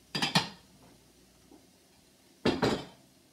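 Chopped carrots, celery and onions tipped into a pan, two short bursts of clattering and rattling about two seconds apart with quiet in between.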